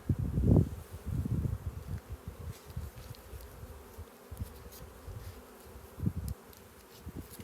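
Honey bees in a backyard hive, getting pollen patties in late July, give off a faint, steady buzz with a few soft handling bumps.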